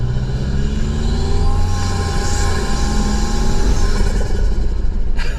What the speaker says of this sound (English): It literally sounds like a 2000s tuner car with turbo